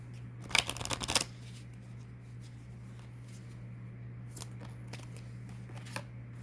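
Tarot cards shuffled close by during a reading, a short burst of rapid riffling flutter near the start followed by a few quieter card taps and slides over a low steady hum.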